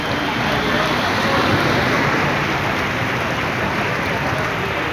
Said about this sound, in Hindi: बहुत भयंकर बारिश हुई है।